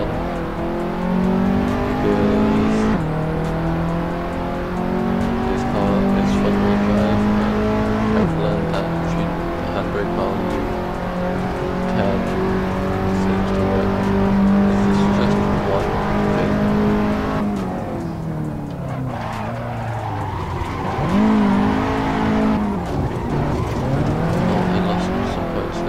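An Alfa Romeo Giulietta in the Assetto Corsa racing game revs hard through a handbrake turn, engine tone climbing and dropping with tire squeal, while someone talks over it throughout.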